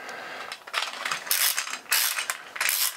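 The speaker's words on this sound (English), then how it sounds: "So I can wind up the clockwork motor." A key winds a 3D printed clockwork motor, giving a rapid, close ratcheting click in repeated bursts, the pawl clattering with each turn.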